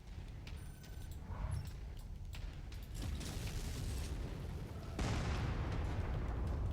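Mech weapons fire in the MechWarrior 5 game, heavy booming and mechanical bursts layered over constant battlefield rumble, growing louder and denser partway through, with no talk.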